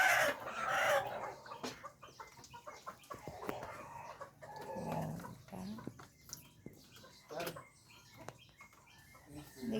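A fighting rooster and hen cluck and call in bursts at close range, with some background voices and a dog nearby adding to the irregular, busy farmyard sound.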